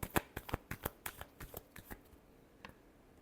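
Tarot cards being shuffled by hand in quick, crisp snaps, about a dozen sharp riffling clicks in the first two seconds, then a short pause and one final flick, close and clear.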